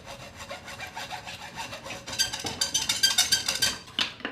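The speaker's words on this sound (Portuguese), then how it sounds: "Eu gosto de fazer isso com arco de serra" A hand frame saw cutting through wood for a joinery fitting, with steady back-and-forth strokes that grow faster and louder partway through, close up and with no voices.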